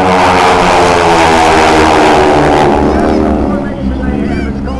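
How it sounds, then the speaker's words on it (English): Propeller aerobatic airplanes from an aerobatic team roar loudly and close at an outdoor air show, a steady engine drone that swells and then eases slightly as they pass, with a commentator speaking over it. "Look at the airplane to your right."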